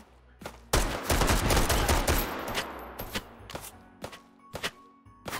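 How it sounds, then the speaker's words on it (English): Rapid bursts of gunfire crack out inside the VR shooter Hot Dogs, Horseshoes & Hand Grenades, a dense volley in the first seconds followed by scattered single loud shots with gaps between them. "Getting shot at."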